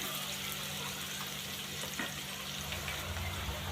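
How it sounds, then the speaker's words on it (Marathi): Chopped onion frying in a pan for a hadga (agathi leaf) vegetable dish, an even, fairly soft hiss with faint stirring scrapes over a low steady hum, no speech. "लगेच त्यामध्ये कापलेला कांदा टाकून घेऊया। आणि याला छान असा थोडं भाजून घेऊ।"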